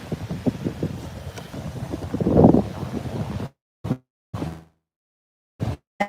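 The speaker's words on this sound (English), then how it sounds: "Here, the wind doesn't bother me." Wind gusts across the microphone at the water's edge at sunset, a rough, buffeting rumble that swells for about three seconds and then cuts off to near silence, broken by a few brief thumps of wind.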